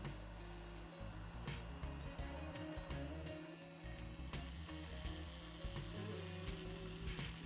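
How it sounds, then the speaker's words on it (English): A Dremel rotary tool grinds away the small lip that holds the wheels on a die-cast Matchbox B.R.M. racing car base, giving a steady, close whirring and rattling buzz with small grinding variations throughout. "I'm using my Dremel tool to remove the small lip that holds the wheels in place."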